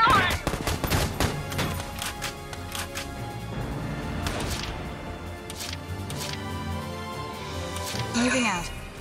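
Gunfire in the video game Valkyria Chronicles 4: repeated loud sharp shots crackle in a steady barrage with crashing impacts, continuing under game voices and music throughout.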